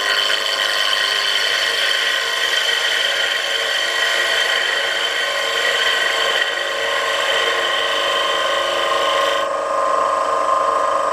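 A wood gouge cuts across a square bowl as it shapes a curve, giving a steady, continuous scraping hiss that stays loud and close without pause.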